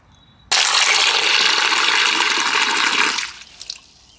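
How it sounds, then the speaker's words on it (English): Rainwater poured into the bottom bowl of a food processor: a sudden loud, close gush that runs for about two and a half seconds, then tapers off with a few trailing splashes. "So there's now rainwater in this food processor bottom."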